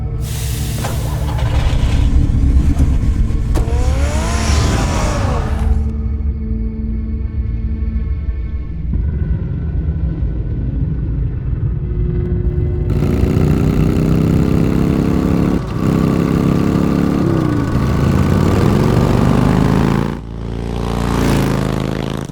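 In Batman: The Telltale Series, a car engine starts and revs, a loud rising roar that settles into a steady idle hum, then climbs again in later rev swells, with no voices.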